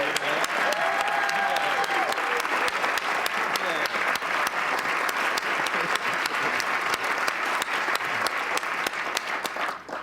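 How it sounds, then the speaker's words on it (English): A studio audience at a talk show applauds loudly and continuously, with dense overlapping clapping and some cheering throughout, and a host's voice occasionally audible over it. "Let's have a big round of applause to everybody"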